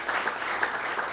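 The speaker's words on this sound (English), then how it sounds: "Let's give a round of applause to Gene once again." A conference audience at a session gives a round of applause, with dense, steady clapping filling the whole short moment.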